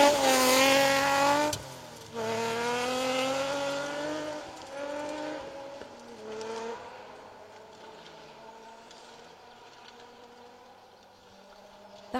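A BMW rally car powers along a stage, its engine note rising and falling through the gears as it passes close, then fading steadily into the distance with a brief tyre squeal early on.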